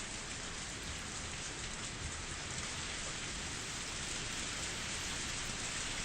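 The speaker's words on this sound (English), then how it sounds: "I feel raindrops on my face." Steady, dense rainfall in a scene from the Higurashi visual novel, a continuous even hiss of drops pattering on surfaces with no other sounds or voices.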